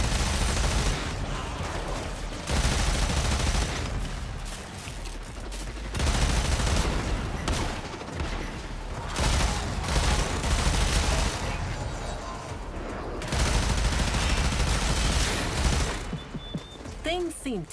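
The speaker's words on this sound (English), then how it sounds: "Oh well, there's always the arch gun, I suppose." Heavy automatic arch gun fire in the video game Warframe, loud sustained bursts with brief pauses, mixed with game effects and a voice talking over the action.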